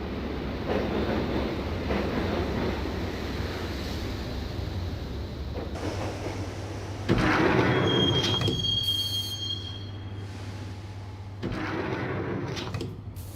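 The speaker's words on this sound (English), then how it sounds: "the train doors had already shut behind me, and I was in for the ride" A train in the Max Payne video game rolls along with a steady low rumble, punctuated by shrill wheel squeals partway through and again near the end.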